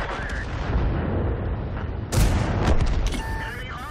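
Tank being destroyed by gunfire in World of Tanks: a dense rumble of heavy cannon fire and booms, with a sudden loud blast midway and a ringing metallic tail afterward, close and forceful.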